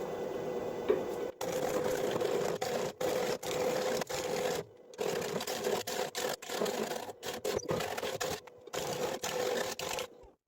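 A wood lathe running at about 575 RPM turns a poplar bowl, producing a steady scraping, rasping whir with a faint hum, broken by frequent short silences as the cutting stops and restarts.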